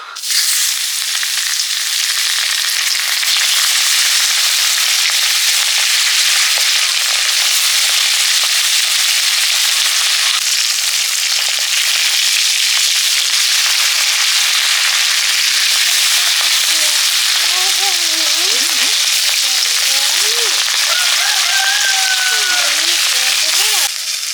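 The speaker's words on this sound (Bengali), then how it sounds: "শুধু সর্ষে কালো সর্ষে নুন হলুদ মাখিয়ে মাছগুলো ভেজে নিচ্ছি" Phesa fish coated in black mustard, salt and turmeric fry in hot oil in a kadai with a loud, constant, close sizzle and crackle; a person talks over the latter half.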